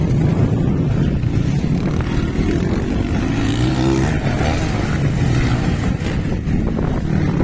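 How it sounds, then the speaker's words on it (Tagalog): Motocross motorcycles race at an intermediate-class event in Libona, their loud engines droning and revving continuously up close, mixed with heavy wind buffeting. "Malakas lang talaga ang motor nila"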